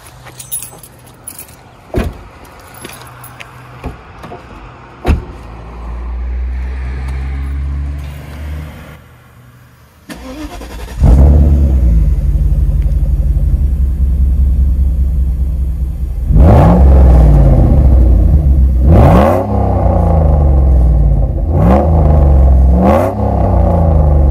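Mercedes W124 E60 AMG sedan: keys jangle and click, then the engine cranks and catches into a deep rumbling idle, followed by a couple of sharp revs close by with no talk.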